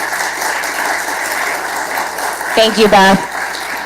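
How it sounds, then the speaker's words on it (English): An audience at a preview screening and Q&A event claps in a steady, moderate patter, and a voice speaks briefly near the end as the applause continues. "please join me in giving Beth a huge round of applause"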